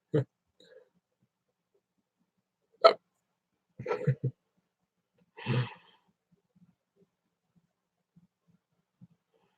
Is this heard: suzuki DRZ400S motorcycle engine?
no